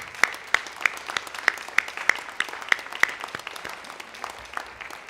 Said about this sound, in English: First of all, give them a great big round of applause.